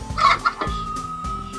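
Farm chickens cluck close by, a short burst of clucks and squawks at the start followed by a few quieter clucks over low background hum.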